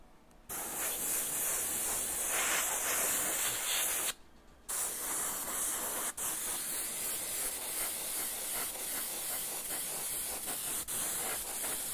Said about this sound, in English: and then I'm spraying it across. And blending in this neon green really, really nice.